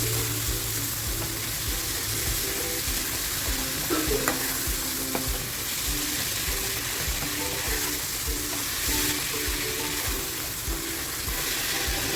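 Chopped tomato and spinach cooking in a pan for a chana palak dish, giving a steady soft sizzle with faint stirring scrapes throughout, no voices.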